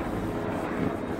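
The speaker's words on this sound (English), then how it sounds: "I have helicopters passing over" Helicopters passing overhead outdoors during a headlight restoration, a steady loud low rotor-and-engine rumble that fills the whole clip without letup.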